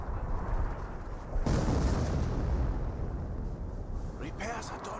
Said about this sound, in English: More artillery raining on in.